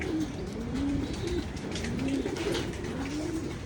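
Pigeons coo repeatedly in a breeding coop, a steady series of soft, throaty calls rising and falling over constant background noise, with no talking.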